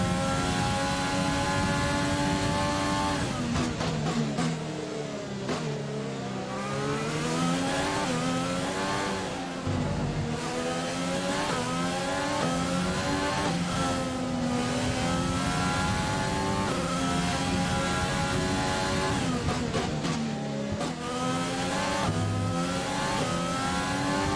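F1 race car engines from the F1 2020 game on the Australian Grand Prix track, loud and continuous, with rising and falling revs and gear shifts sweeping up and down as several cars pass.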